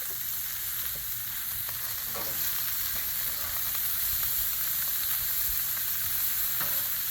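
Pre-sliced onions sear on a Blackstone griddle with a continuous, even hiss of frying fat, moderately loud and close, with occasional faint scrapes and no voices.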